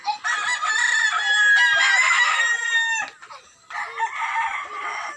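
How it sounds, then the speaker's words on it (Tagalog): Backyard flock of chickens, including large roosters, with a rooster crowing loudly in long drawn calls while hens cluck around it, nearby and unaccompanied by talk. "Ito yung mga manok ni Papa Talala yan oh."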